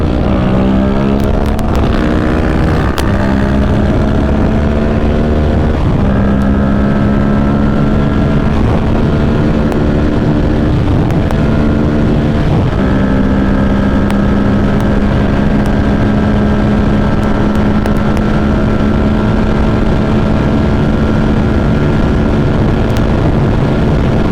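A Kawasaki Ninja 650 motorcycle accelerating hard in second gear, its engine note climbing in pitch in long rising pulls, with heavy wind roar buffeting underneath throughout.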